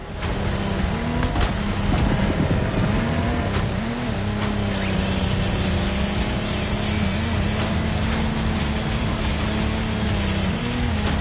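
The Lamborghini Technomar offshore powerboat in the racing game The Crew Motorfest roars with a loud, steady engine drone over rushing water and spray, continuous throughout.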